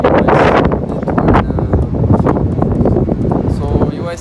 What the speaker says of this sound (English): on the day that we filmed this, it was really windy and it was quite distracting